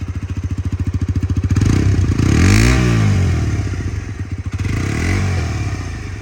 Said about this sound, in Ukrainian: Ну і звичайно ж чи, чистий приємний звук двигуна.